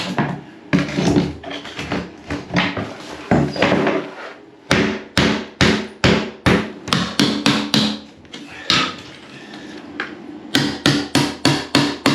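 Sharp hammer blows knocking bathroom wall tiles off, many close loud knocks in irregular bursts with short pauses, some rapid runs of strikes, no voices.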